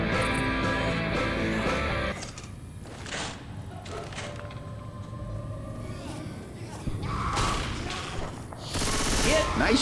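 Gunfire in Left 4 Dead 2 on The Parish campaign, with bursts of rapid shots at the start and again near the end and scattered single cracks and thuds between them, all under game sounds.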